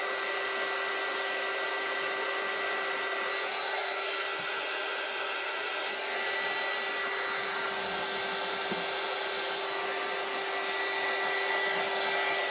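A hair dryer blows on hair in a loud, steady whine and rush of air that runs unbroken for over twelve seconds. A faint tonal hum sits within the roar, and nobody speaks.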